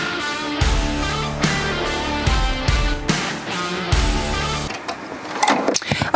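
An embroidery machine runs a placement stitch for Velcro on the back side of a hoop, its needle chattering in steady rhythmic bursts with brief pauses, close and fairly loud, before settling into softer handling noises at the end.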